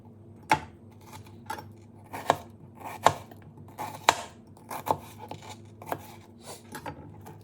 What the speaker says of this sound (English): And now, here we have all of our onions chopped.